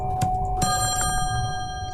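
A phone rings in the puzzle video game Slayaway Camp, a loud, bright electronic bell tone with a couple of sharp clicks at the start, sustained and alone.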